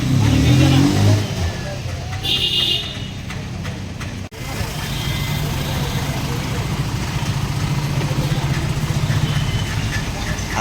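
Engine of a band's vehicle, numbered 1221, running steadily at a fuel stop before the drive to Malegaon, a loud continuous low rumble that swells briefly at the start, with voices talking over it.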